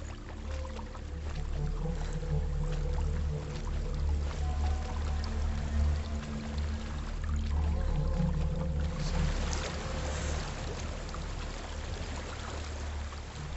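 Rushing waterfall in the video game Hellblade: Senua's Sacrifice, a steady broadband roar of falling water that swells louder in the latter half, with no talk over it.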